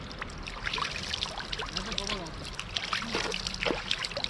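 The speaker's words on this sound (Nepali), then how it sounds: "यो मिठो पानीमा धोइदिइहालौँ।" Spring water splashing and trickling as someone washes outdoors on a camping hike, near and irregular, with people talking over it.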